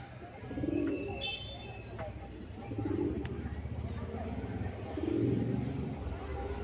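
Giribaz pigeons in a loft coo in low, soft pulses that swell three times over a steady background, with a few faint chirps mixed in.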